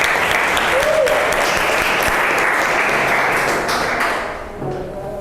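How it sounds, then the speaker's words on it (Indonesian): Loud, dense classroom applause from students clapping for a presenting group, sustained and close for several seconds before tapering off at the end. "Tepuk tangan untuk kelompok A."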